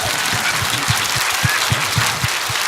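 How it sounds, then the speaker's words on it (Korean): A congregation at a Sunday church service applauds in a standing ovation, with steady dense clapping across the hall and a few louder claps rising above the roar. "Let's give him a big round of applause."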